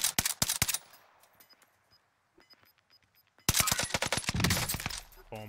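Rapid bursts of gun fire in Warzone, a loud close volley at the start, a quiet pause, then another long, dense burst of shots.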